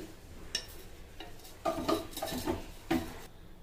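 A kadai pan is set on a stove and a spoonful of oil goes in, heard as several sharp metallic clanks and taps of metal cookware spaced over a quiet kitchen background.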